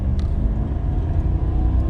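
Car engine pulling hard as it accelerates past another car on the road, a steady loud low rumble filling the whole stretch with no talk over it.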